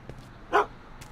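Single short dog bark from a Back to the Future video game, close and fairly loud, rising briefly out of a quiet background with faint soft noises around it.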